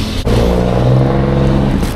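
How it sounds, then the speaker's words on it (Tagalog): A Tesla car passes close by with a steady, loud rolling hum and tyre noise that holds for about two seconds. "Itong sasakyan ni Lemuel, Tesla to eh, tamo."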